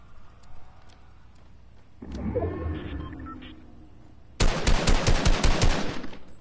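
Rapid bursts of automatic gunfire from a battle royale video game, starting as a quieter rumble and then erupting into loud, dense rattling volleys over the final two seconds, with no talk.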